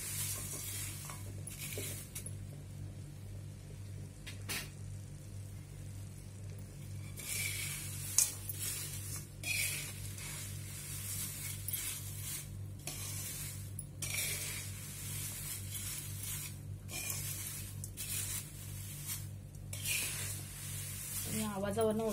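Crispy roasted thin poha chivda is gently mixed with two spoons in a hot kadhai, giving scattered light clinks and dry rustling bursts over a steady low hum.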